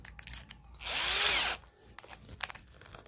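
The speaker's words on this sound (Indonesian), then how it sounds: "Kita mulai dari mata bor 4 mili." A Dongcheng DCJZ1202i cordless drill with a 4 mm bit whines as it bores into steel angle iron for about a second, high grinding pitch, preceded and followed by quieter clicks and handling noise.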